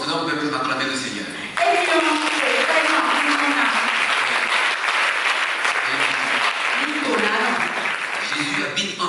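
A church congregation claps to acclaim the Lord, a loud, steady wash of many hands applauding together for several seconds, with voices and cheering mixed in throughout.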